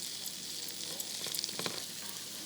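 Onions and curry leaves frying in a pan over reduced heat, a soft, even sizzle with a few light stirring clicks near the middle, fairly quiet and without speech.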